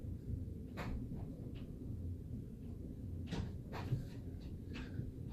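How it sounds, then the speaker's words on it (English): Indoor dog running around and chasing, faint scuffling, thumps and brief panting or whimpering noises over a low room hum, with no talking. "My dog was chasing Katana."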